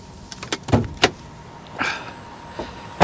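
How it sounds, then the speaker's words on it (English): Hood release and latch on a damaged 2019 BMW 430xi Gran Coupe, with several sharp close clicks and clunks, a duller thunk partway through, and a final knock, with no talking. "Let's go ahead and pop the hood,"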